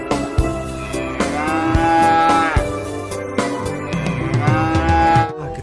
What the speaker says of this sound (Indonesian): di sini ada 4 ekor sapi ya